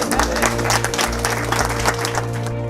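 An audience claps in sustained, dense applause at a Paris hotel event, with a steady hum underneath and faint voices mixed in.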